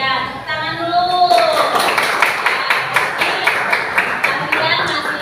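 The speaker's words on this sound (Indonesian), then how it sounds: "Ya, tepuk tangan dulu." Students in an Indonesian classroom clap their hands together in a steady, rhythmic group clap led by the teacher, close and fairly loud, with a voice speaking briefly at the start.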